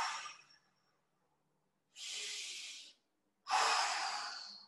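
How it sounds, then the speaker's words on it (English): Deep breathing during a stretching exercise at home, with two long, breathy exhalations or inhalations separated by short silences, close and clear with no talking. "deep breathing."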